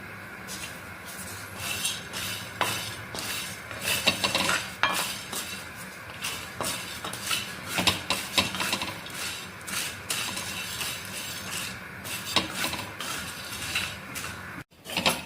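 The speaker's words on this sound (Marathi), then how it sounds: "मसाला भाजते मी आता" Whole spices such as fennel seed, shahi jeera, cinnamon and grated nutmeg dry roasting in a pan, with steady scraping and clinking of a metal spoon against the pan, continuous and close, with brief sharper knocks throughout.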